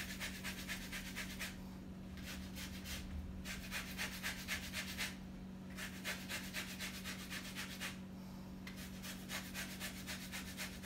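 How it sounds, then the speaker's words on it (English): An orange peel is rubbed against a zester in quick rhythmic rasping strokes, coming in close, faint bursts with short pauses between them. "what the zesting does, it gets out the oil and a little bit of the peel from the orange."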